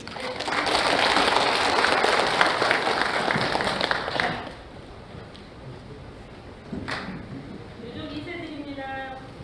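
An audience gives a welcoming round of applause for a guest, an education committee member, at the founding assembly of a bereaved families' association for the Yeosu–Suncheon October 19 uprising; dense clapping for about four seconds, then a quieter room with stray knocks and a voice.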